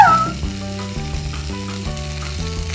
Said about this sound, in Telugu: సో ఇప్పుడు రైస్ వేసేసుకుందాం.